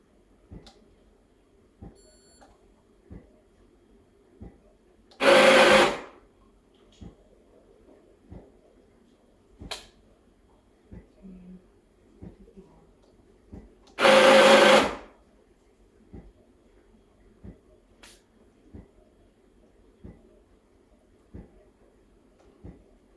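A Breville Infuser BES840 espresso machine runs with a steady, rapid ticking pulse. Two loud hissing bursts of a few seconds each stand out over it, close and alone with no talk.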